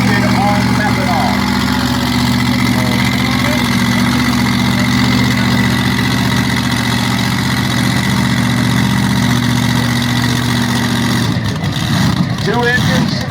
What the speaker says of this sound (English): 1471 Superchargers sitting on top of Twin 526 Chrysler Heavy. Injected on methanol.